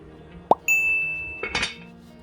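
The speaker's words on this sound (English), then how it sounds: "I'm just going to stir things up, cover it with a lid" Chili being stirred in a cooking pot and covered with a lid: a sharp clink, then a sustained ringing metallic tone, followed by a cluster of scraping, clattering knocks.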